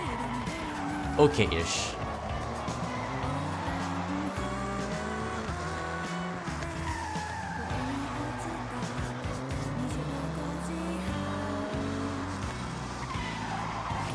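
A car driving in the Forza video game: a continuous engine note climbing and falling through gear changes, with squealing tyres as the car skids, loud and steady, with a brief spoken remark over it.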